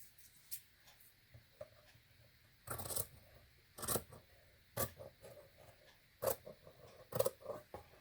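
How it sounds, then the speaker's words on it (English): Several sharp scissor snips cutting through paper for a junk journal cover made from a cookbook binder, spaced irregularly and close by in a quiet room, with faint handling noises between the cuts. "So let me cut that off."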